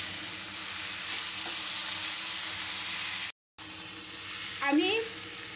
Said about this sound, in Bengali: ভেজে রাখা চিনে বাদামগুলো দিয়ে দিলাম দিয়ে দিচ্ছি নারকেল কুচিটাও দিয়ে ভালো করে আমি এটা কষিয়ে নেবো